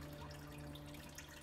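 Water spray from a Clean Sense dib-1500R bidet seat with tankless water heating and strong pressure, a steady quiet hiss of running water with a faint electrical hum underneath, continuous and alone for a short stretch.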